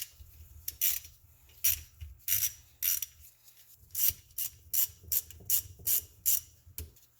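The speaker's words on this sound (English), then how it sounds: "go ahead and start taking out the bolts for the stator cover" Hand ratchet working stator cover bolts loose on a Raptor 660 ATV engine, a rhythmic series of close, sharp clicking strokes with brief pauses between bursts.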